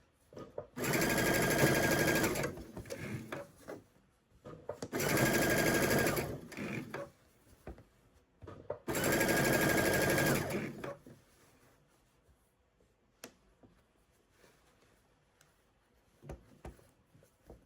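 A sewing machine stitches sweater sleeve fabric in three loud, steady bursts of whirring, separated by pauses with faint handling clicks and fabric shuffling.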